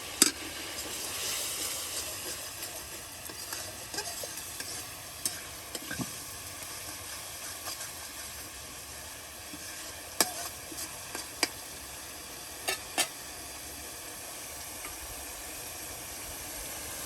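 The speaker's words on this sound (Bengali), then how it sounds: "কত সুন্দর করে মশলা কষে নেওয়া হলো" Spices and freshly cleaned native freshwater fish fry quietly in a pan under a soft continuous sizzle. A spoon stirring against the pan makes sharp, scattered clicks.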